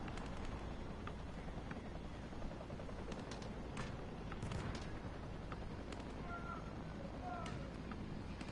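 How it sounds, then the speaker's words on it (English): Video game gunfire as a weapon is fired at targets: a run of sharp, distant-sounding shots and short bursts over a dense, rumbling background, fairly quiet throughout. "grab that weapon off the table and fire at the targets behind you"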